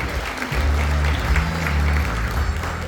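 Guests at a year-end gathering of a regional association in a hotel ballroom applaud, a steady burst of crowd clapping joined by a low background hum and murmur that swell after a brief opening moment.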